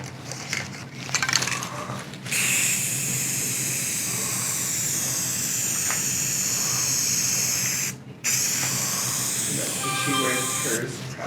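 Steady spraying of alcohol onto epoxy on a particle board table hisses on and off, with brief pauses and quiet talking in the background.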